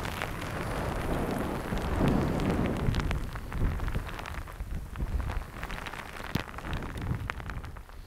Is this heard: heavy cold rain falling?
yes